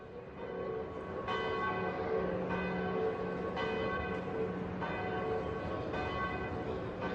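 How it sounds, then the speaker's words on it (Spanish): Bells of the octagonal Valencia Cathedral bell tower toll at a regular pace, about six resonant strokes whose ringing overlaps and lingers, heard from a distance with no talk. "la campana principal del campanario fue inaugurada el mismo día de San Miguel"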